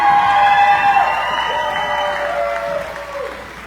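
Crowd applause and cheering at an axe-throwing venue event, loud clapping with whoops and shouted voices at first, gradually tapering off toward the end.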